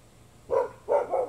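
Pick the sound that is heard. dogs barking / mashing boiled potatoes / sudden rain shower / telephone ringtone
dogs barking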